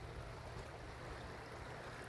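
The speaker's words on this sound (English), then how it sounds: "And this is the Teanaway River" The Teanaway River flows at its confluence with the Upper Yakima in a continuous, close rushing wash of water, with no voices.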